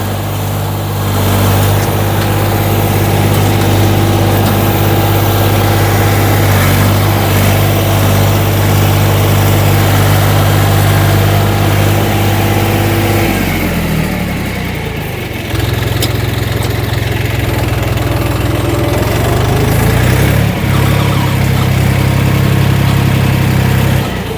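A heavy YTO 244 SX tractor engine runs loud and close while ploughing, its steady chug dipping in pitch midway before settling into a lower, even rumble.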